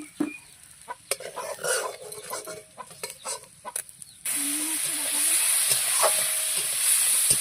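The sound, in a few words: prawns sizzling while frying in a wok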